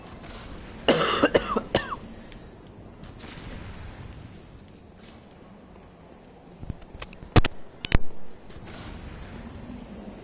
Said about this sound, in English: I'm just not able to stop coughing.